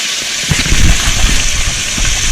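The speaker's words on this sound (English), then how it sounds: "And that's what you want to hear. You want to hear that sizzle." Beef browning in olive oil in a Dutch oven, a steady bright hiss and crackle of sizzling meat, close and loud throughout with small popping bursts.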